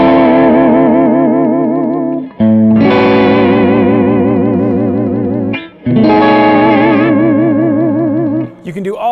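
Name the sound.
electric guitar tremolo arm vibrato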